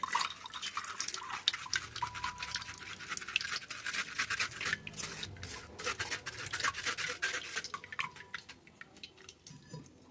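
A spoon rubs and presses pani puri water through a mesh sieve, giving soft, steady scraping with wet dripping and trickling, quiet and close, thinning out toward the end.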